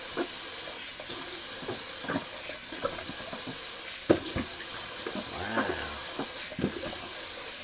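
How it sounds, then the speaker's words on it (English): Tap water runs steadily into a bathroom sink as it is rinsed out after shaving, a close, continuous hiss broken by a few splashes and knocks. "So I'll just rinse that out real quick."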